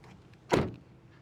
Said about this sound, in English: let's check out the quality by listening to the sound of the closing door